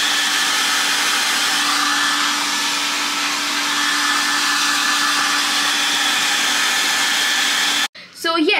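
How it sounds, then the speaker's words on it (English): A handheld hair dryer blows steadily at home for about eight seconds, a loud continuous whooshing roar with a faint whine, then cuts off abruptly as a voice begins speaking. "What I'm going to do is I'm going to use my hair dryer."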